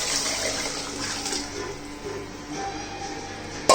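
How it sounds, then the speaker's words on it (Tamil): Ground fish curry liquid pours into a pan in a home kitchen, a continuous soft splashing trickle near the microphone that ends with a brief clink. "நம்ம குழம்பு ஊற்றிக்கலாம்."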